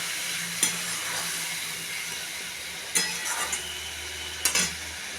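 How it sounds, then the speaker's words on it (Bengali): Spice mix of cumin, coriander and chilli powders stirred into a duck egg curry in a pan, giving a steady sizzle broken by three sharp spoon-on-pan scrapes and clinks, with no talking. "ওই মশলাটা দিয়ে দিলাম নাড়াচাড়া করবো"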